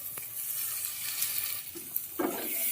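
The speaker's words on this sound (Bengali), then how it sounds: "একটু নাড়িয়ে দিয়ে দেখি বেগুনটা নরম হয়েছে নাকি" Eggplant fries in spice masala while it is stirred, a quiet sizzle with soft scraping strokes and a brief louder stir near the end.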